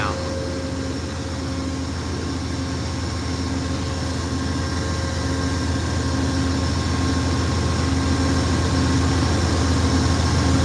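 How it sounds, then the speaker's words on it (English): Amtrak California Zephyr locomotive engines idle at a station stop in Ottumwa, Iowa, a steady low diesel rumble with a constant droning hum that holds evenly throughout. "rhythmic sounds and little noises that these engines make."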